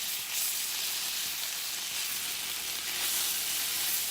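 Cream cheese in a beef broth mixture sizzles in a pan, a dense steady hiss close up and fairly loud with slight swells, no voices.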